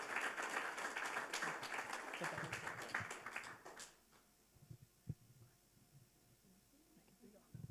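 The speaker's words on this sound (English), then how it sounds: "Another round of applause for Anne-Marie, please." An audience at a refugee entrepreneur pitch night gives a round of applause for a speaker. Dense clapping fills the first four seconds and then fades to scattered claps and room noise.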